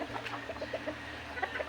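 Backyard chicken giving a run of soft, quick clucks close by, a faint rhythmic series over a low background hum with no talking.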